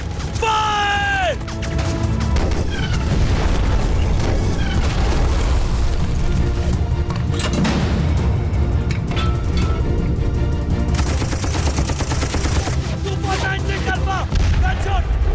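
Tank cannon fire and heavy explosions from a war film about the 1965 India–Pakistan war boom and crash repeatedly in a dense, loud battle mix, with shouted voices over it.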